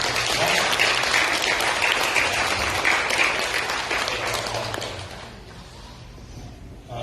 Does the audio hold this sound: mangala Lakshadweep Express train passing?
no